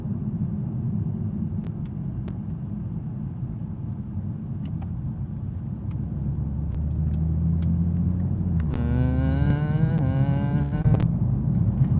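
A Toyota Supra car drives with a steady low rumble of engine and road noise that grows slightly louder, then a rising engine tone near the end.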